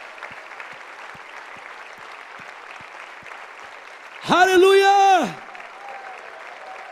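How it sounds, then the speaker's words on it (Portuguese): A church congregation keeps up steady, moderately distant clapping, and for about a second a single voice shouts loudly over it. "Não para de aplaudir não, meu irmão, que o pessoal está descendo aqui ainda."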